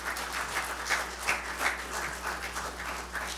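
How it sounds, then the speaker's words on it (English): A round of applause for a crying team manager, a dense patter of many hands clapping in a steady wash, moderately loud with soft rhythmic swells and no talk over it. "all you give her a round of applause"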